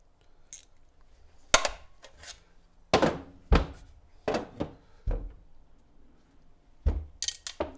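Screws being removed from a Lexx exhaust on a KLR 650 motorcycle, heard as a series of sharp close clicks and metallic knocks spaced irregularly over a quiet background.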